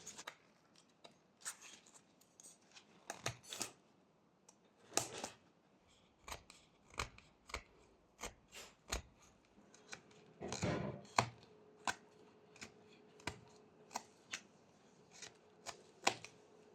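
Knife whittling V cuts into a small block of wood while shaping the corners of an owl carving, heard as a run of sharp, dry snipping cuts at irregular intervals, close and fairly quiet with no talk.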